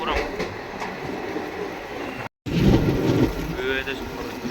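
The Tirupati–Secunderabad Padmavati Express rolls by with a continuous rumbling clatter of wheels and carriages, broken by one brief dropout, while a voice talks over it.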